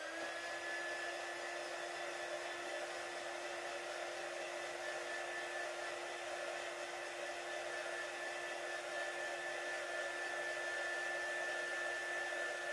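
A hair dryer blows steadily over wet paint on an art journal page, a constant whirring hiss with a thin high whine, even in level and uninterrupted throughout.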